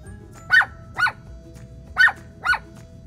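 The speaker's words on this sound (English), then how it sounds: "Do you know what sound a dog makes?" A dog barks four times at a steady pace, each bark short and sharp, close by with quiet gaps between them and no talk.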